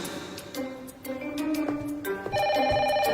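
A telephone in an office rings with a bright, repeating electronic melody that grows fuller and louder over a few seconds, with no talking over it.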